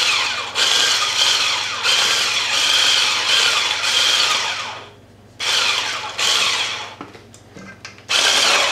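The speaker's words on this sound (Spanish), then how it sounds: "con la varilla, vamos a hacer que se mueva hasta que quede pomada" An electric mixer whisk beats butter into a paste with sugar for alfajores de maicena, whirring loudly in several bursts separated by brief pauses.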